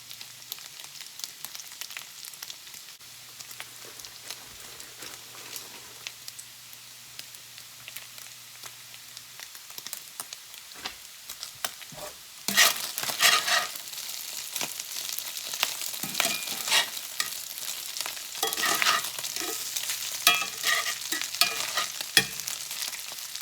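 Carnitas pork crisps in a frying pan with a soft crackling sizzle that swells louder and busier midway, as if the meat is stirred or shifted, with scattered pops throughout.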